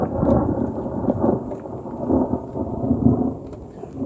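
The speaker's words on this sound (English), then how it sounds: "It's been thundering and lightning." Thunder rumbles low and deep through a thunderstorm, swelling and fading in rolling waves over a steady wash of falling rain.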